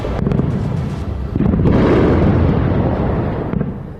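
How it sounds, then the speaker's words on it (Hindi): A loud, deep explosion from a missile strike booms and rumbles for several seconds, with a heavy low roar that slowly dies away. "हमले के साथ ही तेज धमाका हुआ"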